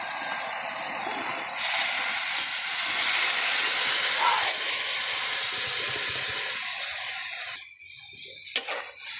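Coconut milk poured into a hot pot with taro stalks sets off a loud, steady sizzling hiss that rises suddenly, holds for several seconds, then drops away, followed by a faint clink.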